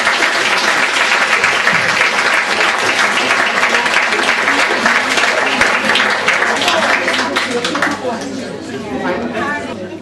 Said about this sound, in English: So can I just get a big round of applause